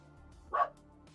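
A dog barks once at a distance, a single short bark rising out of quiet room background.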